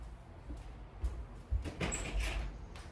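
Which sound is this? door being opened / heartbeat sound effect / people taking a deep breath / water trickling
door being opened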